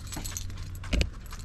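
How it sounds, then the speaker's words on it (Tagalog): A bunch of keys jangles briefly with a short metallic clink and rattle at close range, standing out over a low steady background rumble. "Ito yung susi niya."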